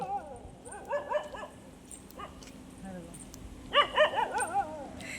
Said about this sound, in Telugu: మళ్ళీ కుక్కలు ఏం అరుతుంటాయి చూడండి